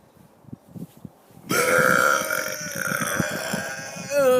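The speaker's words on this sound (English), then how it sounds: "Loudest burp ever." A loud, long human burp erupts and sustains for about three seconds, rumbling then rising in pitch at the end, preceded by soft breathy sounds.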